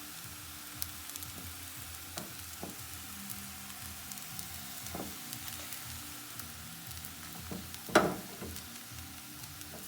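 A crepe cooks in a pan with a soft, even sizzle at low volume, steady for the whole stretch, broken by one sharp clink near the end; no one speaks.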